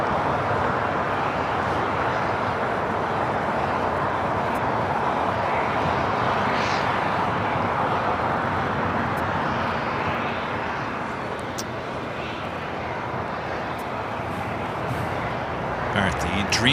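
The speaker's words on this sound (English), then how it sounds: "the 777-300ER, Japan Airlines, flight 15, heading back to Tokyo Haneda" A Japan Airlines Boeing 777-300ER departing LAX for Tokyo Haneda, a loud, continuous jet engine roar that eases slightly near the end, with a voice speaking over it.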